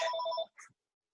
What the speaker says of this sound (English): I got a phone call there.